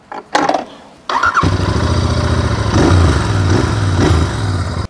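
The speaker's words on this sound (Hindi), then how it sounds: "मैं पहली बार कोई कैफे रेसर बाइक चला रहा हूँ" A Royal Enfield 650cc cafe racer motorcycle starts up after a brief crank, then settles into a loud, close, throbbing idle with a couple of light throttle swells.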